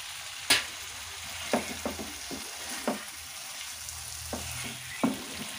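Fried potatoes going into a spiced pan for a coconut paneer and potato curry, with a steady low sizzle broken by several sharp clatters of a spoon stirring, close and moderately loud with no talking.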